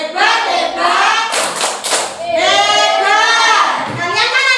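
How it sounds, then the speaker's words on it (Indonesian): Children chant the tepuk hebat clapping rhythm together in a classroom lesson, with loud voices and a short burst of hand claps partway through. "Ayo tepuk hebat dulu."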